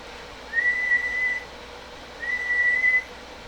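Two sustained whistled tones, each about a second long, separated by a short pause, whistled into a radio microphone on a Phantom 500 radio, heard thinly over a steady background hiss.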